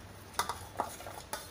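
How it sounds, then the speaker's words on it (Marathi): Cooked suran (yam) slices moved into a vessel, a few sharp metal clinks and scrapes of a utensil against the pot, spaced out over quiet background, close by. "तेव्हा ह्या भांड्यात काढून घेते"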